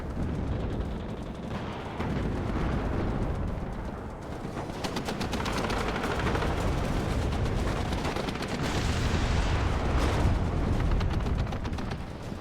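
Heavy and medium machine guns on an Abrams tank fire in the WARNO strategy game, dense rattling bursts mixed with booming impacts and explosions in a loud, continuous battle din.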